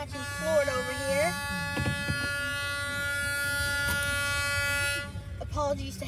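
A Mosaic coal train, led by SD40 locomotive #3801, rumbles past in Riverview, Florida while its horn blows a sustained chord, and excited voices talk over it nearby.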